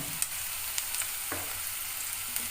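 Beans tipped into a pan of frying onions sizzle steadily, a soft continuous hiss with a few light clicks of stirring, close and fairly quiet, with no voices.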